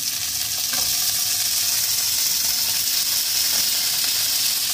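Soaked cashews, walnuts and raisins sizzle in hot oil for a paneer-in-milk dish, a continuous close hiss with soft stirring scrapes and no voices.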